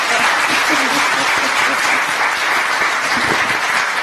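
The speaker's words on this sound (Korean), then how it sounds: "큰 박수 부탁드립니다." Audience applause at a Democratic Party of Korea leadership forum as a former party leader is welcomed, a dense, steady wash of many hands clapping, loud and continuous throughout without pause.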